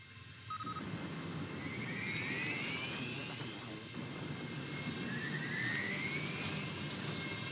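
A bomber aircraft in a Command & Conquer Generals Zero Hour mod with Star Wars Imperial units drones past as a steady jet roar, with two rising whines sweeping upward over a dense battle rumble.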